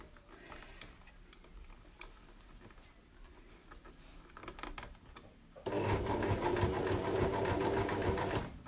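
A sewing machine stitches a fabric face mask, first in soft intermittent ticks and taps as the fabric is handled, then in a loud, rapid, steady run of stitching at close range, with no talk.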